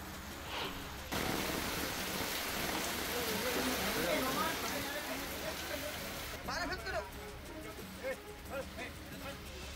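Heavy monsoon rain over a flooded village stream in Parbhani, a dense, steady roar of rain on surfaces that runs throughout, with a voice speaking over part of it.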